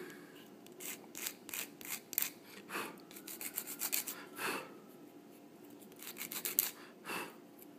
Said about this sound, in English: I think we need to trim it a little bit more.